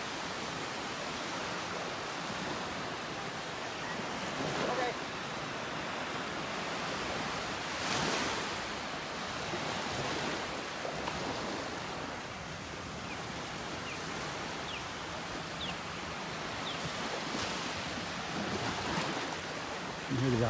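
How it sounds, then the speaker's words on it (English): Ocean waves wash onto a beach in North Naples, Florida as a soft, continuous distant surf hiss, with gentle swells rising and falling at a low level. "So peaceful listening to the waves out there."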